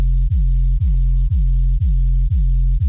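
Dubstep riddim sub bass with pitch bends and low-pass EQ pulses in a steady loop, each deep note dipping in pitch before restarting, loud and alone with no voices.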